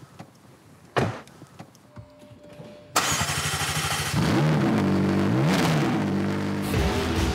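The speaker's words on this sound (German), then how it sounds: "Der V8 Biturbo ist ein Höllenaggregat, das im Umkreis von 500 Metern klarstellt, hier kommt etwas Gewaltiges" A V8 biturbo sports car engine is started and then revved hard, giving a loud, close, sustained roar with rising and falling pitch. A door-like thud comes first, with no talking.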